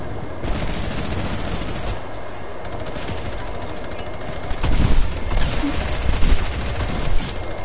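A minigun in a video game spins out a steady, rapid stream of loud fire that holds for several seconds without a break, with extra bursts of shooting layered in toward the end.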